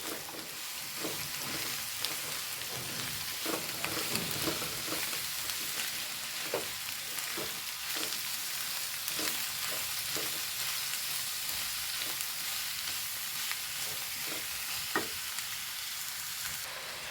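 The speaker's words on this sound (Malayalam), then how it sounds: "ഇതിലേക്ക് സവാളയാണ് ചേർത്ത് കൊടുക്കുന്നു ഞാൻ നാല് വലിയതാണ് വലിയ സവാള കേട്ടോ എടുത്തത്" Four large chopped onions fry in a pan with a steady, close sizzle throughout, and a spoon stirs them with repeated scraping and clattering strokes.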